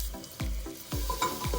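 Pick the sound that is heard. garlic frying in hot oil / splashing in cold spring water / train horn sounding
garlic frying in hot oil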